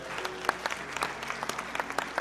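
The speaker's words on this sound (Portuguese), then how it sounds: "Você pode dar uma salva de palmas a Jesus?" A church congregation gives a round of applause, a brief burst of many hands clapping with a moderate, even patter from a room full of people.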